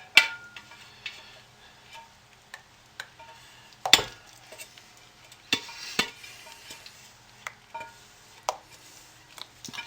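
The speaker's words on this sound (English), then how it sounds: "I'll go ahead and scrape it out. Make sure I get all of it used." Scraping leftover paint out of a container, a quiet series of irregular scrapes and clinks with sharper knocks every second or so, close and otherwise silent.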